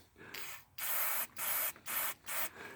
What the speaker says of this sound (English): I'm going to spray a little bit on the front again.